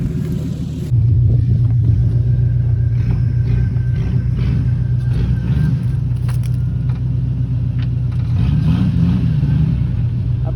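A truck on 35-inch mud tires repaired with Flex Seal starts rolling and drives off, its engine a loud, steady close rumble with a deep low drone that holds throughout.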